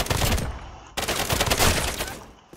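Rapid bursts of automatic gunfire in a Roblox Call of Duty style zombie shooter, two loud volleys separated by a brief gap, the second fading out.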